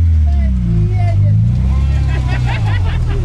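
An off-road vehicle on mud tyres drives slightly downhill, its engine a loud, steady low rumble from start to finish, with voices murmuring faintly over it.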